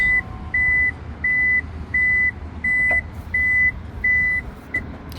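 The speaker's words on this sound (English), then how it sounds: "Now I'll just press this and then we can close the tailgate." Power tailgate of a 2024 Toyota C-HR closing to a loud, evenly spaced warning chime, eight clear beeps over a low motor hum, close by and with no voices.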